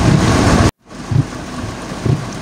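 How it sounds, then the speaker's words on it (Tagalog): Heavy rain pours in a loud, dense hiss, cuts to silence for a moment, then returns softer with a few low thumps or gusts. "talagang malakas yung ulan"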